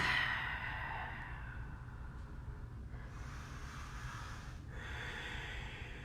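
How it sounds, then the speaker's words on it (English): Long, deep breathing during a slow yoga flow: an audible breath fading out, followed by two slow airy inhales and exhales, soft and near, with no talking. "We're going to take about 3 long inhales, long exhales."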